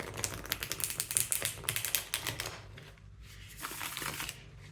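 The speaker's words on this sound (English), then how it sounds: "I'm just going to shuffle like this" Tarot cards shuffled by hand at close range, a rapid run of crisp riffling flutters that breaks off partway, followed by softer, sparser card handling, with no speech.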